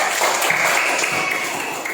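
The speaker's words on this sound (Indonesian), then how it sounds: "Tepuk tangan dulu." Applause from a class of students, a steady dense patter of clapping held at an even level for a couple of seconds, close and without voices.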